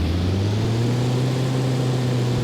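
A propeller airplane engine in Flight Unlimited III drones loudly and steadily throughout, its low hum layered with rumbling harmonics and no talk over it.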